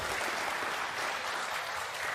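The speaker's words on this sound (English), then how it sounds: "round of applause for Finland and Singapore right now" Crowd applause in a pool hall at the World Cup of Pool quarter final, a continuous, even roar of clapping heard from a distance, steady throughout with no voices standing out.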